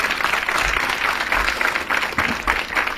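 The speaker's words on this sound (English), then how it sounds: "Clap it up. Put your hands together." Church congregation applauding steadily and loudly, a dense wash of many hands clapping that holds throughout, with a few faint voices mixed in.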